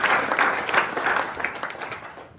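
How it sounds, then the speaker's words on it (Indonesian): Applause from the congregation at an Indonesian church worship service fills the room with steady, dense clapping that is fairly close and sustained, then tapers slightly toward the end. "Tepuk tangan untuk Allah kita yang dahsyat."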